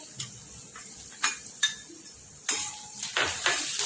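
A spice masala is stirred and roasted in a pan with ginger, chillies, curry leaves and asafoetida, giving a soft sizzle beneath sharp scraping and clinking of a spoon against metal, several distinct knocks near the end.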